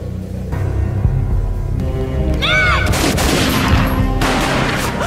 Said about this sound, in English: A gunshot boomed and she fell down in slow motion